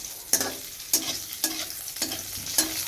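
Egg curry with potato and cauliflower being stirred in a pan, a spoon scraping the pan in five evenly spaced strokes over a soft, steady sizzle, close up with no talking.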